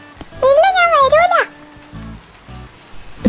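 Steady soft rain sound effect for a Malayalam audio drama, a low hiss running under voices throughout.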